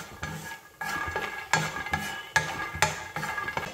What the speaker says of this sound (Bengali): বাদামটিকেও একদম মিডিয়াম ফ্লেমে কিছু সেকেন্ড রোস্ট করে নেব